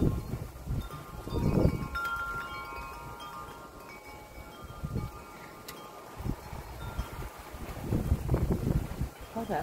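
Gusty wind rushes through a pine tree outdoors in blustery, uneven surges, with low rumbling buffeting against the microphone.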